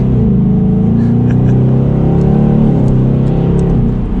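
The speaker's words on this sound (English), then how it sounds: "Alright, so that was like quarter throttle. Already that V8 definitely packs a nice punch." A 2020 Ford Mustang GT's V8 pulls at quarter throttle under paddle-shift manual mode, a steady, loud low rumble that holds close and continuous throughout, with no talking over it.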